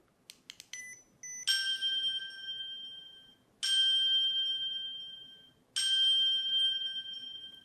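Phone bell ringtone set off by double-tapping the button on a keychain tracker: a few quick clicks, then three loud ringing bursts, each fading before the next begins, in a quiet room.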